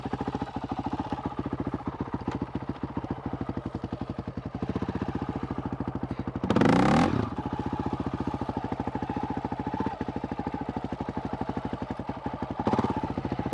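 Honda CRF450RL motorcycle engine idling with a fast, even, close thump, then two sharp throttle blips, the first a loud rev near the middle and a shorter one near the end.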